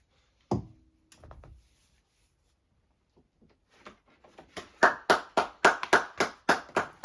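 A brief knock and rustle, then a quiet pause before a run of about ten sharp, evenly spaced hand claps, fairly close.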